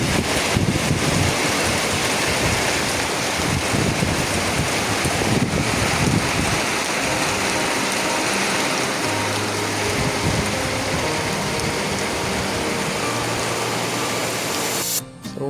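Dense, steady roar of heavy rain pouring down on rice fields, loud and continuous with no voices, cutting off abruptly at the end.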